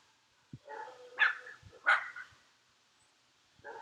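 A dog barks several times at close range, a few sharp separate barks with short gaps between them, alone against an otherwise quiet background.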